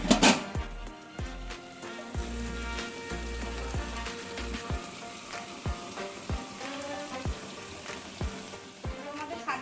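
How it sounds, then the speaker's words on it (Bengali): Mutton frying in a pan for homemade biryani gives a steady sizzle, with repeated sharp knocks and scrapes from stirring throughout and a faint background tonal hum. "ভালোভাবে একটু ভেজে নিই।"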